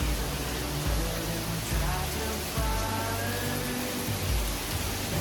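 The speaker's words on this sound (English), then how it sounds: "Hear the rain" Steady rain on Koh Phangan island, Thailand, hissing across a wide band, constant and fairly loud, with faint low rumbles of traffic or machinery beneath.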